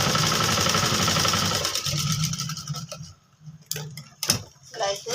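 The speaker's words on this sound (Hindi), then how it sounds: "सिलाई लगाएंगे" Sewing machine stitching the collar of a ladies' kurti coat, a steady motor whir with rapid needle ticking for about three seconds, then stopping into scattered short clicks and handling noises, close by.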